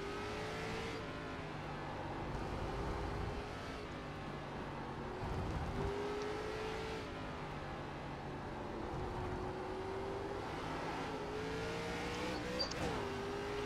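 Stock car engine droning steadily through the iRacing ARCA race, with gear-like pitch sweeps as the throttle rises and falls, occasional tire scrub, continuous and close without break.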